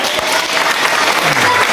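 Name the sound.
loud applause for a game winner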